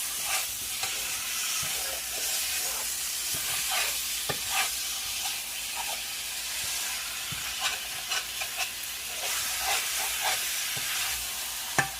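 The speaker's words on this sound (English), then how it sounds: "I'm just browning it. And this is actually a non-stick pot." Meat browning for a Philly cheesesteak in a non-stick pot gives a steady close sizzle and hiss, broken by occasional soft stirring scrapes, with no talking.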